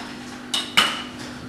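A pan set down on a kitchen stove to heat, giving two quick metallic knocks about a quarter second apart, close and fairly loud over a steady low hum.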